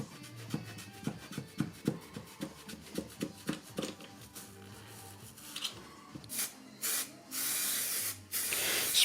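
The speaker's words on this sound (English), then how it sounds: "Spraying it up with a contact adhesive" Contact adhesive, a non-branded aerosol, sprayed onto foam in a workshop: a few steady hissing bursts near the end, following rhythmic tapping and scraping, close and fairly loud.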